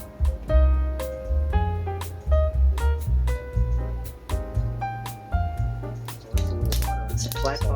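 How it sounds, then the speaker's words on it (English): Peanut oil is poured into a flat pot while someone talks over it, with soft dripping and liquid trickles up close. "the first thing we're going to put in here is a little oil"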